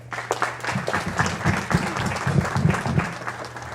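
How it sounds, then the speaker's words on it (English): An audience at a mayor's town night applauds the city police chief, a short burst of clapping over a low hum, with a few louder individual claps standing out nearby. "Let's give him a big round of applause"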